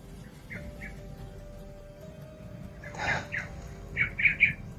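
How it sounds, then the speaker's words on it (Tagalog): Crows cawing on Mount Pelar, several harsh calls arriving in short bursts of two or three, moderately distant, over a steady low outdoor background. "marami talagang uwak dito sa Mount Pelar"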